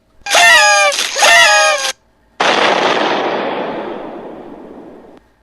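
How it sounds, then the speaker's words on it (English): In a Batman Arkham Asylum video game, two loud strained yells are followed by a short pause, then a big explosion bursts out and its noisy roar slowly fades over a few seconds. "The explosion knocked Batman unconscious very briefly"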